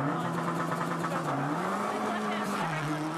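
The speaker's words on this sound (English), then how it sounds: "here comes Subaru Rally Team Canada and 4-time champion Patrick Richard" Subaru Rally Team Canada rally car accelerating hard from a stage start, engine note climbing through revs and shifting, loud and close, with an announcer talking over it.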